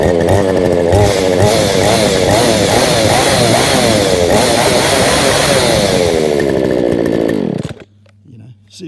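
A Morrison 45 cc chainsaw engine runs loud and close, a raspy high-revving buzz with rising and falling pitch as the throttle varies, then cuts off near the end, leaving near quiet.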